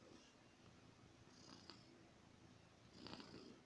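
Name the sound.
cat Matt purring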